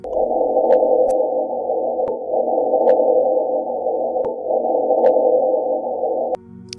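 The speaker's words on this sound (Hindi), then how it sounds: "सीसोमीटर से रिकॉर्ड की गई ये वेव्स मार्स के वातावरण से जुड़े कई खुलासे करती है।" Mars quake seismic waves recorded by a seismometer and rendered as sound: a steady, droning hum with faint periodic clicks, running continuously before cutting off abruptly near the end.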